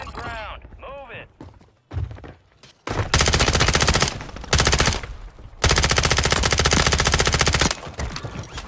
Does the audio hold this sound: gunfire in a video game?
yes